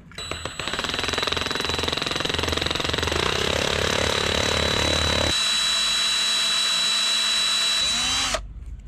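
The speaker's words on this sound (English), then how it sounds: "We're going to drill a small hole first, a little pilot hole." A power drill bores a small pilot hole into a bolt on a turbo Subaru Forester, whining steadily at high speed for several seconds, loud and close, then its pitch shifts before cutting off abruptly.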